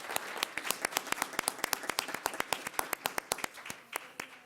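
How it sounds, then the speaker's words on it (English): A board meeting audience breaks into quick applause, dense hand claps ringing out steadily for a few seconds in a large room, thinning slightly toward the end. "Let's give them a quick round of applause."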